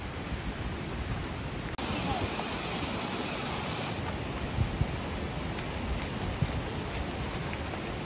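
Fast-flowing floodwater rushes under a bridge in a loud, continuous broadband roar that fills the whole clip, with a sharp knock near the start and a few faint bumps, while people talk quietly underneath.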